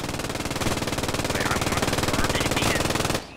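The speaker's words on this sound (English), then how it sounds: "This MG is just unloading." Machine gun in a video game firing one long unbroken burst of rapid, evenly spaced shots, loud and close, cutting off abruptly near the end.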